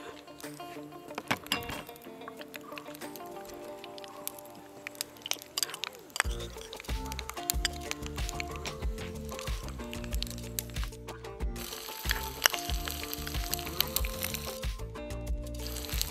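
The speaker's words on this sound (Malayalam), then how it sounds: "അതാ എണ്ണ, എണ്ണ മൂത്തു, അര ടീസ്പൂണോളം കടുക് ഇട്ടിട്ടുണ്ട്." Half a teaspoon of mustard seeds hits hot cooking oil in a pan, crackling and sizzling steadily, with scattered sharp pops and clinks of utensils close by.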